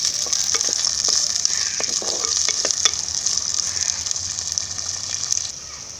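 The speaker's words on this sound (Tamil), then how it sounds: "பொன்னிறாகிற வரைக்கும் நல்லா வறுத்தெடுத்துக்கலாம்." Onions and curry leaves fry steadily in a little oil until golden, a dense continuous sizzle with faint stirring clicks, close and alone with no voices.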